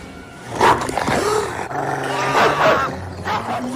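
A cartoon dog growls and snarls up close, loud rumbling bursts with some yippy barks mixed in, carrying on for several seconds without any talking.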